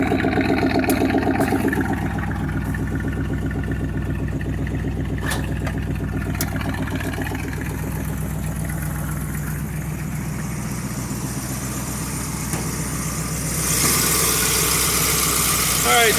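A Dodge Ramcharger's 318 V8 idles under the open hood, a low steady rumble with a throbbing pulse, while someone talks over it and a brighter hiss swells near the end.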